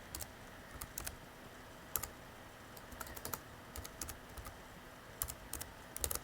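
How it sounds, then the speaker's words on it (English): Quick, light keystrokes on a computer keyboard typing out a web address, irregular clusters of soft clicks with short pauses between bursts, close and quiet with no talk. "then type in the web address"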